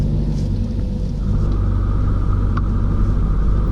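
A vehicle drives in a carnival convoy behind a decorated lorry pulling the main trailer, with a generator trailer towed behind. A steady, close engine and road rumble runs throughout with no talk.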